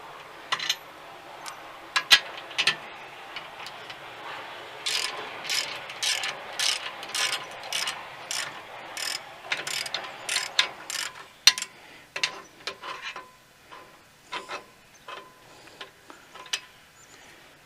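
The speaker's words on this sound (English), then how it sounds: "I'm going to go ahead and take this top bolt out first." A socket wrench removes the top bolt of a tractor quick hitch, its ratchet clicking in repeated close bursts of rapid ticks with short pauses and a few metallic knocks in between.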